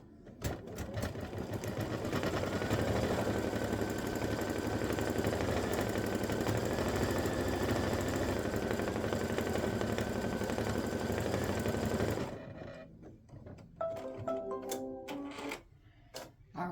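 An embroidery machine stitches the outline of a turkey design in a rapid, steady mechanical chatter for about twelve seconds, then stops, leaving scattered clicks and brief thread-trimming noises.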